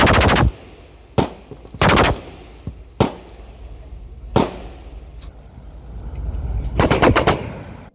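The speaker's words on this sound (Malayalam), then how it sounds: "ഉൾക്കടലിലെത്തിയ കപ്പലിൽ നിന്ന് തുരുതുരാ വെടിവെപ്പ്." Machine gun fire from a coast guard ship during a sea drill off Kochi rings out in several loud, sharp bursts spaced across the span, each leaving a rolling echo, with a final rapid cluster near the end.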